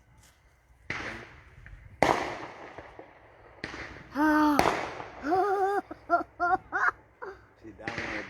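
Fourth of July fireworks burst in a string of sharp booms and crackles, some with whistling tones, moderately distant, with people talking and reacting between the blasts.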